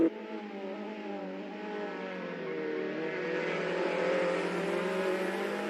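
Race car engine droning steadily in the pit lane of Assetto Corsa, a smooth mid-pitched whine that slowly rises as the car pulls away, close and continuous with no voices.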